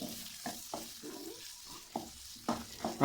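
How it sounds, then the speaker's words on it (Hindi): Okra being stirred into frying onions in a pan, with spoon scrapes and soft bursts of stirring repeated every half second or so over a quiet, low sizzle. "ये देखें भिंडियाँ मैंने इसमें डाल दी हैं और मैं अच्छे से इनको जो है वो मिक्स कर दूंगा।"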